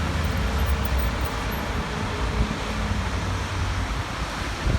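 Wind buffets the microphone outdoors on a road with a mountain view, a continuous loud low-frequency rumble and roar that stays steady throughout.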